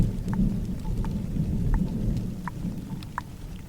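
Steady rain falling in an even wash, with scattered close droplets ticking and a low rumbling undertone, continuous and enveloping with no voices.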